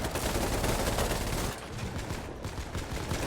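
Video game siege of a fortress: dense, continuous automatic gunfire roars for over a second, then thins into scattered rapid shots with a rumbling, noisy background and no talk.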